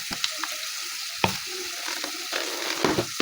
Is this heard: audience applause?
no